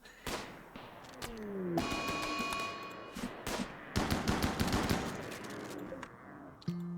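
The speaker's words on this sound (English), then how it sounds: "Now shoot and start the battle." Gunfire in the RimWorld colony game: rapid bursts of shots and thuds crackle in clustered volleys, with occasional brief tones between, loud and close with no talk.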